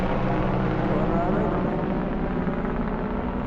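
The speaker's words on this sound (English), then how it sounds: "You still hear that helicopter." A helicopter flies over the Grand Canyon near the Tonto Trail, heard as a steady, broad rumbling drone that carries across the open canyon at a moderate distance.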